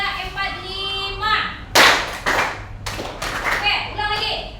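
Hands clap in a counting exercise, a handful of sharp, closely spaced claps following a spoken count, with voices talking before and between them.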